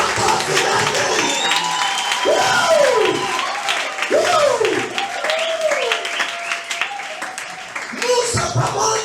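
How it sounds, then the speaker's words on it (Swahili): A congregation at a church service bursts into loud sustained clapping and cheering, with voices calling out and whooping over the applause. "Mpigie Yesu makofi mengi."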